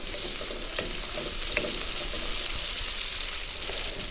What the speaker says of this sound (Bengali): এখানে আমি পেঁয়াজটা ভাজতেছি